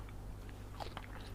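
Strawberries being bitten and chewed up close, a short burst of soft wet crunches and squishy mouth sounds over a steady low background hum.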